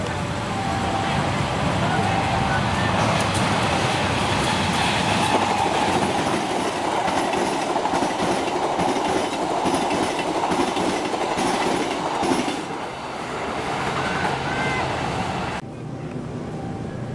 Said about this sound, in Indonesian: Oleh karena itu, kereta api Serayu yang menjadi lewat duluan di sini.